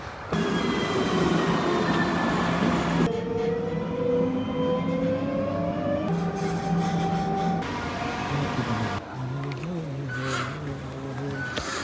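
A Qatar metro train running, heard from on board as a sustained rumble with rising and falling motor whine, shifting tones and occasional wheel squeal, close and steady without talk.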